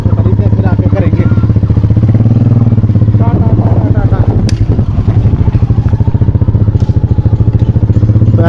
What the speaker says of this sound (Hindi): अपनी बाइक निकाल ली बाहर